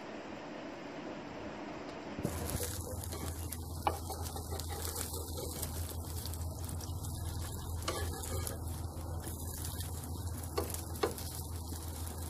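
Semolina breakfast cakes sizzle steadily on a hot tawa griddle, a soft continuous hiss that starts abruptly, with occasional small ticks and spatter pops.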